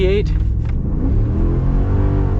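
A 2021 Ford F-250 pickup with the 6.2L gas V8 accelerates, a loud steady low engine rumble building continuously close by, with a brief tonal note at the very start.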